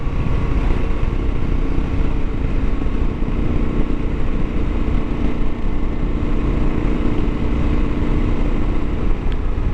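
A Kawasaki KLR650 Gen1 motorcycle, an all-mechanical bike, rides along a road with a steady, loud engine drone and wind rumble that hold constant throughout, with no talk.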